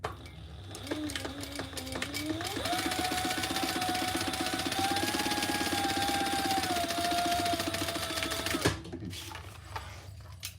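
A sewing machine runs steadily through a scrap piece of fabric for several seconds, a close, even mechanical whir with rapid stitching clatter that stops abruptly near the end.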